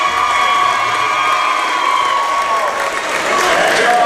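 A good-sized crowd in a school gym cheers and applauds loudly and steadily as the Sulphur Springs Wildcats boys basketball team is introduced before a game against Paris, with a continuous wash of claps and shouts throughout.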